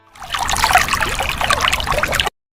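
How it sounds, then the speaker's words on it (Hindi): A watery splash and trickle as a fairy dives into a river in an animated story, a short burst of sloshing lasting about two seconds, fairly loud and close, then stopping abruptly. "परी माँ ने पानी में डुबकी लगाई"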